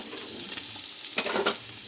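Celery and other vegetables sizzle gently in a pan while being sauteed for homemade chicken noodle soup, with a soft steady crackle that swells briefly near the end.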